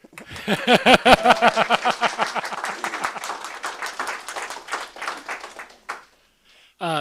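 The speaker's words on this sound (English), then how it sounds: "You want to clap? I heard somebody start to clap there." An audience claps at a conference. A rapid run of claps begins loud, with a voice sounding near the start, then thins and tails off into scattered claps before a brief silence.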